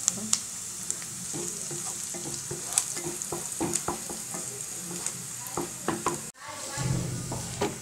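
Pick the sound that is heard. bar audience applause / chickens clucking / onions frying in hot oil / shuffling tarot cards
onions frying in hot oil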